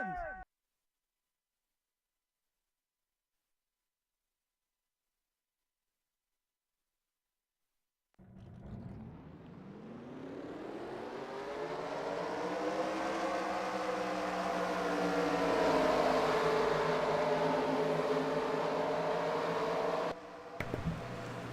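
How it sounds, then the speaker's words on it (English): Race car engines fire up together for the Golden Corral 500 at Atlanta in a racing video game, swelling after a long silence into a loud, sustained layered roar that builds steadily. "Let's get the command to fire engines for the Golden Corral 500 at Atlanta."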